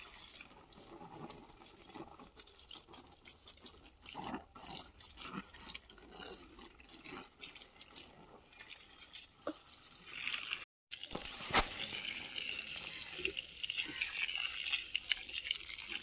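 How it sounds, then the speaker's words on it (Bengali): Water poured onto garden plants, a steady splashing and gushing flow close by that runs almost unbroken, with a brief cut near the middle and stronger pouring afterward. "সব দিকে মোটামুটি ভালো করে জল দিয়ে দিলাম পিছনটা"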